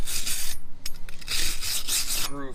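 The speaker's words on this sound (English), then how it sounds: "We're just going to take a wire brush here and just try and clean some of the gunk out of" A wire brush scrubs gunk off the front brake hub of a Jeep Cherokee KL in quick, close, raspy strokes, pausing briefly before resuming.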